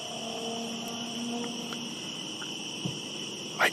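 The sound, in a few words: crickets chirping in dark woods at night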